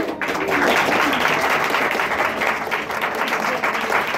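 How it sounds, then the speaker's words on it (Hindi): Audience at a church Christmas program breaks into loud, sustained applause. Dense clapping fills the whole stretch at an even level, close and continuous. "आपकी जोरदार तालियों में।"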